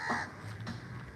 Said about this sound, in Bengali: কাকটা ওই তো কাকটা ডাকছে তো কাকটা ডাকছে তো